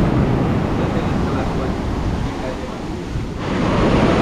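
Ocean surf and wind roar steadily at a secluded Bali cove, a loud, broad wash of crashing waves and gusty microphone buffeting that dips briefly before surging back.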